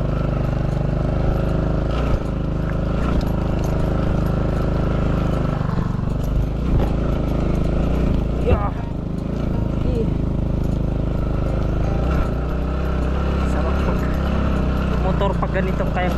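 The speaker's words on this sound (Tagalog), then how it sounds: "pag ganitong kaya-kaya ng motor, hindi mo kailangan magtulak" Motorcycle engine labouring steadily as it climbs a steep mountain trail through pine forest on Mount Ugo, a continuous loud drone with occasional shifts in load, with a rider talking over it.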